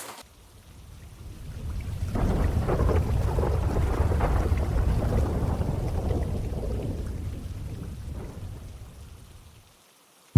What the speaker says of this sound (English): Sorry about the rain, guys.